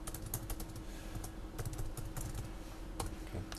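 Rapid clicking of keys on a computer keyboard, close up and fairly quiet, in uneven bursts with a low hum underneath.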